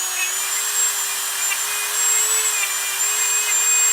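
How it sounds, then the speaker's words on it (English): A Dremel rotary tool grinds rust off a Kia Stinger brake hub during a rotor upgrade, a steady high-pitched whine holding an even tone, close and continuous throughout. "So many great uses for this Dremel."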